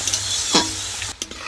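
Vegetables frying in a pan for mutton fried rice, with a continuous close sizzle broken by a few sharp scrapes and knocks of the spatula against the pan.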